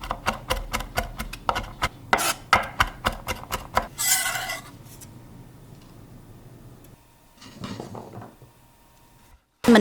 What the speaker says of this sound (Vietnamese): Rồi băm thêm một ít ớt để mình làm nước chấm gỏi.